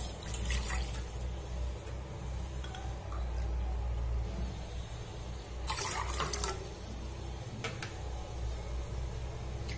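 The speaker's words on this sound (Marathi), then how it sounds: "त्यासाठी आपल्याला एका भांड्यामध्ये 2 कप पाणी घ्यायचं आहे." Water for a cumin and ajwain home remedy decoction is poured into a cooking pot, a faint running trickle with light clinks of metal, and one louder splashy burst partway through.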